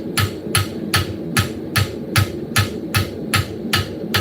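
Hammer blows strike hot steel on an anvil at a forge, about eleven sharp, evenly spaced ringing hits at a moderate, unhurried pace with a low forge roar between them.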